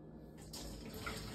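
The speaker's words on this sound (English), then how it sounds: "So you've got to grab a strainer, and we'll go ahead and put that in the sink." Cooked macaroni is drained through a strainer in a kitchen sink, giving a brief, faint, steady rush of pouring water.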